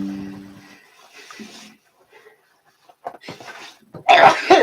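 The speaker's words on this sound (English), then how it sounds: "I'm going to blow my nose." A brief, forceful nasal blast near the end after quieter shuffling and breathy sounds, close to the listener.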